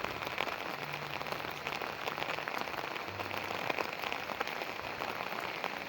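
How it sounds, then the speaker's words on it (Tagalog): Steady rain falling outdoors in a muddy area, a dense, even hiss of drops hitting surfaces throughout, fairly close with no pauses. "Biglang umulan."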